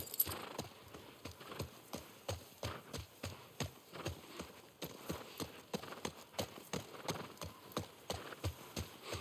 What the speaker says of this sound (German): dann müssen wir das Pferd da zurücklassen